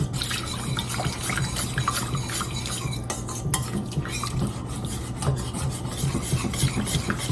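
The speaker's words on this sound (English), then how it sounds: "Whisk this together. Like I said, whisk continuously." Cream of chicken soup base whisked continuously in a pot, a steady scraping, rasping stir with quick metal taps of the whisk against the pan, close and fairly loud with no talking.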